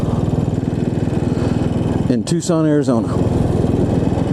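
A Royal Enfield Bullet 500 single-cylinder engine thumps steadily with a rapid even pulse while being ridden through a mesquite-lined neighborhood in Tucson, Arizona, staying loud and close beneath someone talking throughout.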